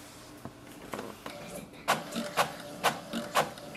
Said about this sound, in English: So here we can see it has started the printing.